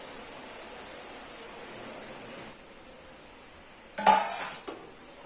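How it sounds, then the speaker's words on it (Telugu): A spoon scraping and clanking against a pan while ivy gourd (dondakaya) is stirred into masala, one sharp metallic burst of contact over a steady low hiss of cooking, with no talk. "ఇట్లా దొండకాయలను యాడ్ చేసేసి ఒకసారి మంచిగా మొత్తం కలిపేసి మంచిగా నిదానంగా కుక్ చేసుకోవాలి"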